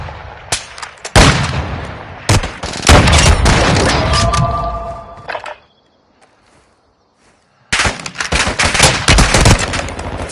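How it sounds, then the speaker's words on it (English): Gunfire in the video game GTA: loud, close machine-gun bursts and heavy booming shots, then a few seconds of near silence before another dense burst of automatic fire. "Taking effective fire!"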